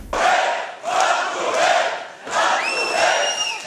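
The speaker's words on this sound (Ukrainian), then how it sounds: "Не обійшлося без звинувачень і вигуків." A crowd in a meeting hall shouts in waves of overlapping angry voices, loud and close, swelling and dipping over a few seconds as several people yell at once.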